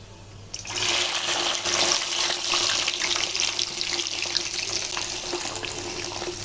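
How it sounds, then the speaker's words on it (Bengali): Garlic cloves, dried red chillies and a spoonful of panch phoron frying in hot mustard-style oil for a Bengali garlic pickle, a steady loud crackling hiss starting abruptly and continuing without talk. "এবার দিয়ে দেব কয়েকটা শুকনো লঙ্কা, আর দিয়ে দেবো 1 চামচ 5 ফোড়ন। এবার দিয়ে দেবো রসুনটা।"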